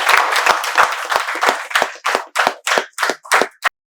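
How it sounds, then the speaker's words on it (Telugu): Sharp, loud handclaps from an audience in welcome at the close of a live spoken English class, dense at first and then thinning into a dozen distinct rhythmic claps before stopping. "మీకు మేమందరం చప్పట్లతో స్వాగతం తెలియజేసి సెలవు తీసుకుంటాం"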